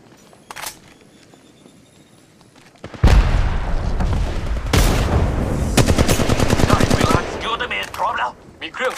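Gunfire in the mobile shooter Apex Legends Mobile: after about three seconds of quiet, loud, close bursts of rapid automatic shots break out and continue in dense volleys with sharp single cracks.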